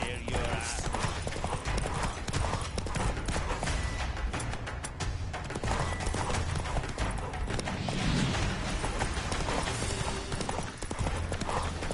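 Hooves of Roach, Geralt's horse in The Witcher 3, clip-clop in a fast, steady galloping rhythm, loud and close, over a dense game soundscape with music and occasional spoken lines.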